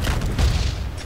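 Cannon fire in the Roblox game Pirate Clash, a single deep booming blast with a low rumbling tail, loud and fairly close, no talking over it.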